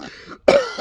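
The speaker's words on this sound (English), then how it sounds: "Hey, you're coughing." A single short cough followed by a brief throat-clearing sound, close and fairly loud, with no talk.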